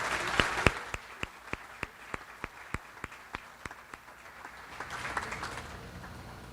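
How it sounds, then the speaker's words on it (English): Applause at an annual agency celebration honouring staff service anniversaries, heard as sparse, quiet, evenly spaced claps that thin out after a few seconds. "Let's give them a round of applause."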